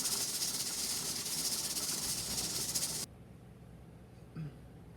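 Steam hisses loudly and steadily from a pressure canner's jiggling weight during pressure canning of raw-pack chicken, then cuts off sharply partway through, leaving a quiet background with a brief low thump.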